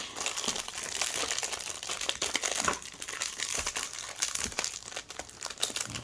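Crinkly plastic packaging around a set of Uni Posca acrylic paint markers being torn open and crumpled by hand, a close, continuous rustling and crackling with sharp crisp bursts throughout.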